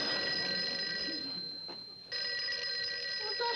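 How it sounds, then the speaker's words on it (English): A telephone rings in an office conference room on a 1960s TV sitcom: a steady bell tone with sustained ringing, a brief pause partway through, then the ring resumes at similar loudness, with no talk over it. "Somebody answer the phone."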